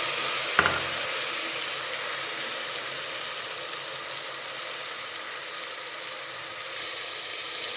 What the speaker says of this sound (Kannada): ಶುಂಠಿ ಬೆಳ್ಳುಳ್ಳಿ ಪೇಸ್ಟ್ ಹಾಕಿದ್ಮೇಲೆ ಅದು ಹಸಿ ವಾಸನೆ ಪೂರ್ತಿಯಾಗಿ ಹೋಗಬೇಕು, ಅಲ್ಲಿವರೆಗೂ ನೀವು ಫ್ರೈ ಮಾಡ್ಕೋಬೇಕು ಅದನ್ನು.